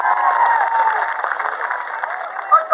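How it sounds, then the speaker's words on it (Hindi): A large outdoor crowd at a Delhi event in Central Park, Connaught Place claps and cheers in a dense, continuous wash of applause with scattered shouts, loud and sustained throughout. "तो अपने लिए एक जोर की ताली।"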